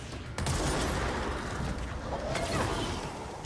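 Gunfire rattles in the video game Control as a dense, continuous burst of rapid shots that holds for several seconds over a loud, noisy background.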